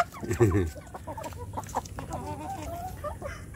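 A healthy, tame kampung chicken clucking close by on a warm morning, a few soft throaty clucks and murmurs, quiet and intermittent, with faint background noise.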